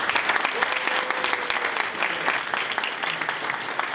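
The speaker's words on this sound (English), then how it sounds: "Please join me one more time in congratulating with a round of applause." An audience at an awards banquet applauds the award winners, a full, continuous round of many hands clapping at close range, steady for the whole stretch.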